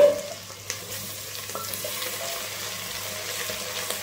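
Mutton trotters frying in hot oil with onions, a steady close sizzle and crackle with a few clinks of a stirring spoon near the start.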